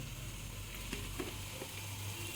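Onions cook in a pan with water and spice powder and no oil, giving a soft, steady close sizzle with a few faint stirring taps and no talking.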